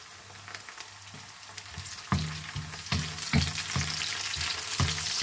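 Half-sautéed onion and torn curry leaves sizzle in a pan for tuna noodles, a steady close fry broken by repeated scraping stirs that grow louder as the ingredients go in.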